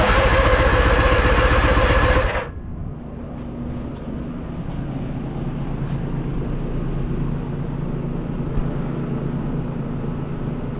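An outboard motor on a small skiff runs loud and broadband at open throttle for about two seconds, then cuts sharply down to a lower, steadier engine drone with wind rushing over the microphone.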